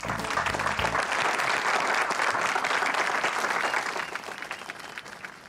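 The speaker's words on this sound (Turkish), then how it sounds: "Alkış!" A crowd claps loudly and steadily, the applause sustained for several seconds before gradually thinning out.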